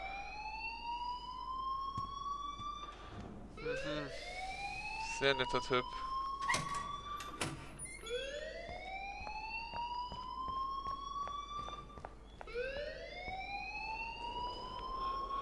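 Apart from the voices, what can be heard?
alarm ringing in the video game Life is Strange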